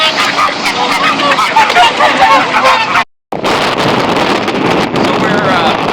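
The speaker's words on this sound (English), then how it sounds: "These are some birds on the geothermal pond in town." Waterfowl honking on a geothermal pond in an Icelandic town in winter, loud and continuous with strong wind buffeting the microphone and a brief dropout midway.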